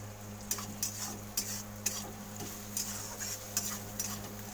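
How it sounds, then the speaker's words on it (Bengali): Ginger fries softly in a pan with a faint steady sizzle, while a utensil scrapes and taps rhythmically, stirring about eight times. "আদাটাকে ভালো করে ভাজা করবো।"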